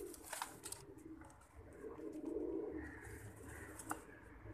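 Pigeons coo softly at close range, a few low murmuring calls against faint background noise, with no talking.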